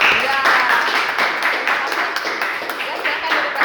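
A classroom of students claps hands together, a dense, fairly loud burst of applause lasting a few seconds.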